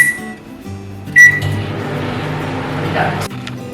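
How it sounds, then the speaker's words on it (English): A microwave oven cooking an omelette in a mug: a door clunk and a bright beep, then a steady low hum running for a few seconds before stopping. "So into the microwave it goes. We're just going to set the time for 2 minutes."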